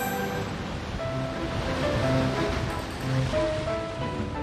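Strong wind and rolling ocean waves on the Brazilian coast near Salvador, a steady broadband roar of surf and gusts that swells and eases, loud and continuous, with no voices.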